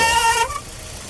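A car engine's drive belt, sprayed with water to mimic rainy-weather driving, lets out one loud, close, high-pitched squeal for about half a second. The squeal cuts off abruptly, leaving a lower engine rumble.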